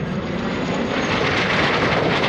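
A jet aircraft, flown by Randy Ball, makes a low pass at the 2017 Rhode Island Air National Guard open house airshow: a loud, steady, broadband engine roar fills the whole moment with no talk over it.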